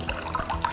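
Tap water runs from a sink in an abandoned hospital, a short close splashing trickle with a few louder drips.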